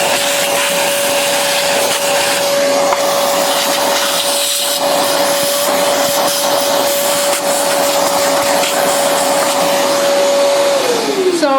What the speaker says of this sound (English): First thing I do, vacuum that mess out.